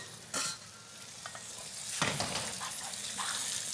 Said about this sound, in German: die Muscheln kurz anbraten